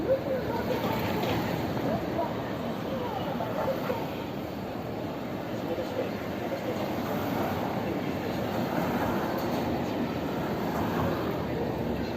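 A streetcar rolls along an evening street in Hondori, Hiroshima, Japan, a steady low rumble that swells and fades across the whole stretch amid city traffic noise and distant voices.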